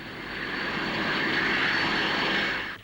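A Fairey Ultra Light two-seat helicopter taking off from and landing on a moving lorry at the Farnborough Airshow in the mid-1950s, its engine a loud, steady droning whine that swells briefly, then fades at the end.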